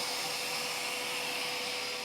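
A Henry Petcare HPC 160 vacuum cleaner runs in a steady, unbroken whine with a constant airy roar, fairly quiet and alone with no talking.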